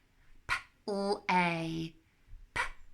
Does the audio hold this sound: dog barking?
yes